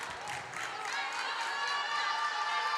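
CIU student cheering section at a college volleyball match, a dense roar of many shouting and cheering voices, fairly loud and sustained, with a commentator's voice mixed in.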